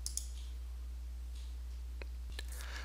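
Two or three soft, separate clicks of a computer mouse, close and faint, spaced apart over a low steady electrical hum with no voices.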